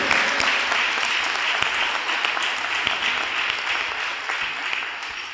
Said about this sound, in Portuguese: Palmas para o Senhor Jesus. Palmas bem forte.